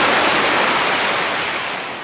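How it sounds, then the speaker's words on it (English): Soft ocean waves as heard inside a seashell in a video game, a steady broad wash of surf-like hiss that holds even and alone, tapering slightly toward the end. "That's the sound of the waves."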